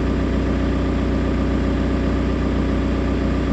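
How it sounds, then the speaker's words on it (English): A VW Corrado TDI diesel engine runs at a steady, close idle, an even low mechanical drone with a continuous rhythmic throb and no pauses. "Start the vehicle."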